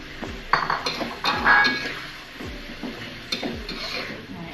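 Sliced petai and chili are stirred in a pan, giving close metallic clinks and scrapes of a spatula in uneven strokes over a faint sizzle.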